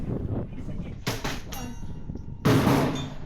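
Sharp gunshot blasts at an outdoor shooting range, a couple of loud broadband cracks with the last one nearest and heaviest, with faint voices in the background.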